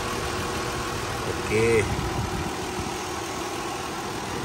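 Car engine idling while the engine bay is inspected: a steady low rumble runs the whole time with a brief slight rise midway, and a voice speaks over it.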